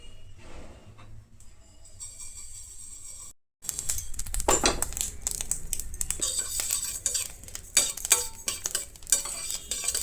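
Washed and dried sesame seeds roast in a pan. After a quiet start and a brief silence, they give off dense crackling and a rattly sizzle, broken by sharp scrapes and clinks of stirring up close.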